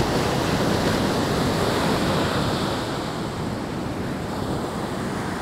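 Ocean waves wash onto Crab Beach in Indonesia, where the surf comes in crosswise from several directions. A continuous broad roar of surf mixes with wind buffeting the microphone, with no talking.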